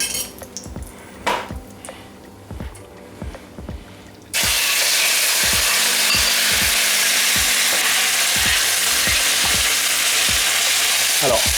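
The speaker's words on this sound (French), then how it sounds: "Alors, on va rajouter tout simplement 2 petites cuillères d'huile d'olive. Et ensuite, on va directement saisir la viande." Chicken hits hot olive oil in a pan, shifting from quiet clinks and utensil taps to a loud, sustained, close sizzle that holds steady while knocks and scrapes keep sounding beneath it.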